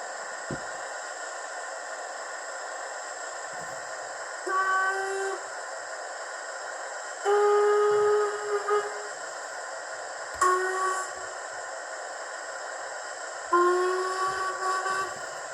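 A Hornby R30225SS 5MT Black 5 model steam locomotive with sound plays its effects: a steady running hum broken by several short whistle blasts and chuffs, close and clear, with no talking.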